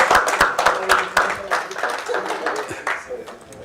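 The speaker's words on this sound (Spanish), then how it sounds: "Bueno, un aplauso." A small seminar audience at an engineering institute claps, with distinct individual claps in an uneven rhythm that thin out and fade over a few seconds.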